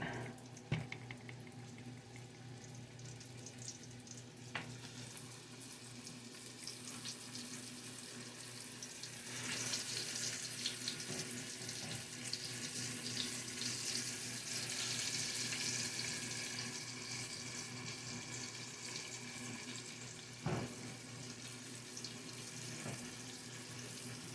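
A kitchen tap runs steadily for a long stretch while hands are washed beneath it, a continuous close hiss of water that swells in the middle with a few small clunks and splashes.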